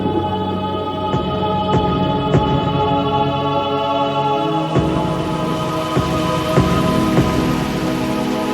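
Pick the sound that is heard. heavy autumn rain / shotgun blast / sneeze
heavy autumn rain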